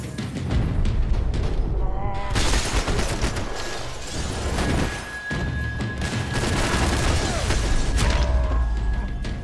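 Dense gunfire from a Max Payne 3 shootout in the video game: continuous bursts of shots and heavy impacts, loud and close, with brief character voices mixed into the chaos.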